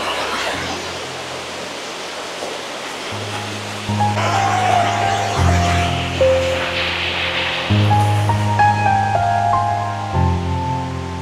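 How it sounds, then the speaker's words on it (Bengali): A large waterfall in Rangamati pours down from a high hill, making a loud, steady broadband roar heard beneath sustained musical tones. "বেশ বড় ঝর্ণা"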